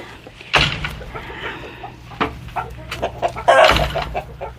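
Hens cluck and squawk close by alongside a black copper Marans rooster and an Easter Egger hen, with several sharp bursts of calls scattered over steady background coop noise.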